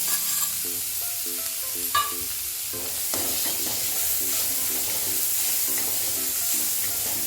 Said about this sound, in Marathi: टोमॅटो चांगला मऊ होईपर्यंत परतून घेऊया